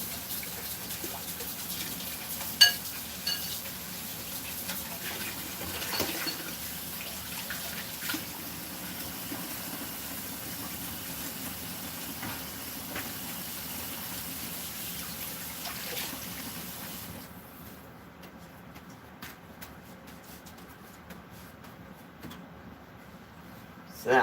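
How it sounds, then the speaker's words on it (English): A kitchen tap runs water into a bowl in a steady, moderate stream for much of the stretch, then cuts off near the end, leaving quieter room sound with a few soft clinks. "A little water in that bowl, so it's easier to clean up."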